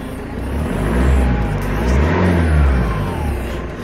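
The 2.0-litre diesel engine of an E87 BMW 120d runs just after an oil change, a close, continuous rumbling drone with gentle swells in pitch and level throughout, without any voices.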